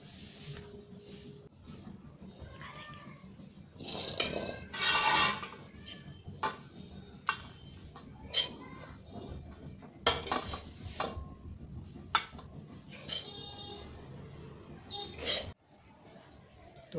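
Roasted coconut mixture for coconut laddoos is scraped and transferred onto a metal plate, giving intermittent clinks and scraping of a spoon against the metal, close and moderately loud, with a voice speaking over part of it.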